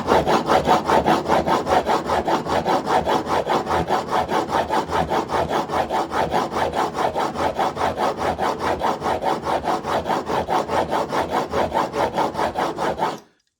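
A plane blade is rubbed back and forth on a diamond file in a honing guide, a fast, even run of scraping strokes repeating for about thirteen seconds at close range before stopping abruptly.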